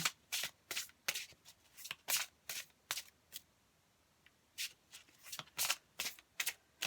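Tarot cards shuffled and drawn by hand in a quiet room, a run of crisp riffling bursts, a short pause, then more quick shuffles, close and fairly soft.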